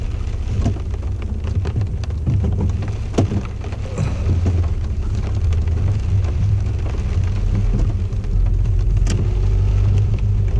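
A car driving through heavy rain in Big Bear ahead of a cold front, with a steady loud wash of rain and road noise and a low engine rumble throughout, punctuated by a few sharp drop hits.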